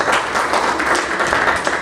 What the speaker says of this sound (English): Round of applause together, round of applause.